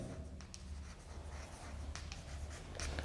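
A pen writes an accounting entry on paper, making quiet, intermittent scratching strokes with brief pauses between them and no speech.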